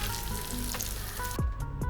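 Rice batter for mutta surka fries in hot oil with a steady, dense sizzle, close and continuous, with a couple of brief clinks of a utensil near the end.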